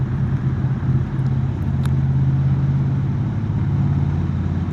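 2022 Triumph Bonneville T100 Gold Line motorcycle cruising along a lakeside road, a steady deep engine rumble with a humming mid tone and constant wind noise, loud and close as the rider travels.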